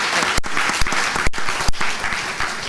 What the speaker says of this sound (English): to give a big applause to Réka, Szemerkényi.